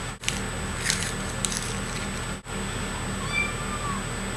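Pet cat meowing indoors, a few faint, brief mews heard near the end against steady background hiss, with a person speaking softly earlier.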